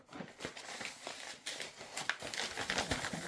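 Scissors cut through pre-cut fabric for a ring garland decoration, making soft, close crinkling and snipping sounds that rustle unevenly and quietly throughout, with no talking.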